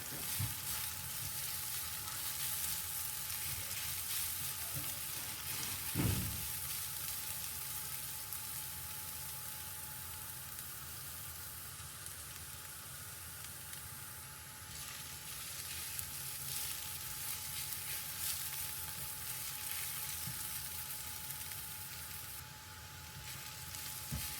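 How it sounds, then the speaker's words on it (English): Garlic fries in a pan with a steady, dense sizzle that holds evenly throughout, broken by a single brief clunk near the start, with no talk. "being really careful not to burn the garlic"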